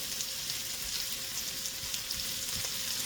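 Meat sizzles and fries in its grease in a pan while a crustless quiche is being made. The crackle is steady and close, with a few louder pops and no speech.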